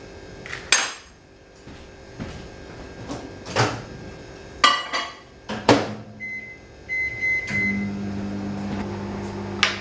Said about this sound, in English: I'm going to melt it in the microwave